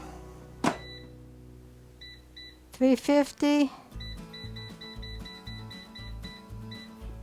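The control panel of an air fryer gives a sharp single beep, then a quick cluster of short electronic tones while being set, followed by a low humming run as a person speaks.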